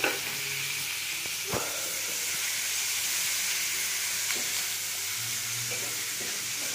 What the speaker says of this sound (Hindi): प्याज को थोड़ा अच्छी तरह से फ्राई करेंगे